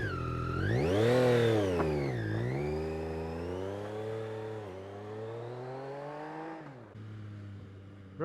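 A Yamaha XSR900 motorcycle engine revs loud and close in one continuous run: the pitch climbs sharply, dips, rises again, then settles into a steady drone before a brief drop near the end. No voices are heard.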